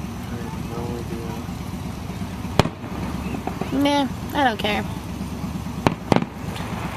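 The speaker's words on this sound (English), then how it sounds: "those are the fireworks for you guys" Fireworks explode outdoors with sharp cracks and crackling bursts scattered through a busy background, and people talk throughout.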